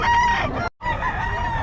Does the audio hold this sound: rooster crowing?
yes